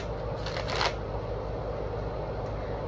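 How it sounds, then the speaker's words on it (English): Tarot cards being shuffled, a steady papery riffle with a brief louder burst near the start, close by and continuous. "Let's go ahead and shuffle."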